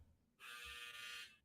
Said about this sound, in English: That was my dryer